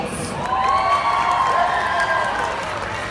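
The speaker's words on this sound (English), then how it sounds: "can I please have one round of applause to some of the most important people in the room" A roller derby crowd at a Sockeye Sallys versus Fairbanks Rollergirls bout cheers and applauds for the officials, with loud, sustained clapping, whoops and shouting at close range and a whistle-like tone sweeping through.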